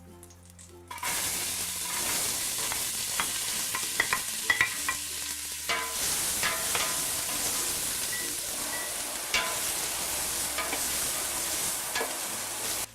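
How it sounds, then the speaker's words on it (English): Half a large onion sautéing in olive oil in a pot, a steady close sizzle starting after a second with scattered clicks and scrapes of stirring throughout. "So you want to cook down the onions till they're like translucent."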